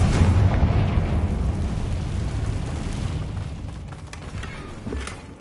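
A Confringo fire spell from Hogwarts Legacy bursts open with a loud, rumbling blast at the start, then trails off into a long, crackling roar that fades over several seconds, with no voices.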